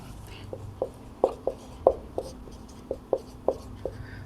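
Pen writing out a Class 12 maths solution, a string of short, crisp taps and scratches spaced roughly every quarter to half second, close and fairly quiet, with no voice over it.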